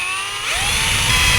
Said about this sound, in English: I'm just going to drill a hole in the side of the neck so that I can raise the water level a little